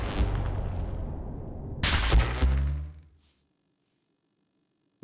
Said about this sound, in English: Did you also hear a distant explosion?